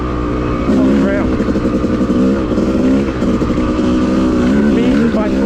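A Yamaha YZ250 two-stroke dirt bike ridden on a woods trail, its engine buzzing loudly and continuously as the throttle rises and falls, with a rider talking over it.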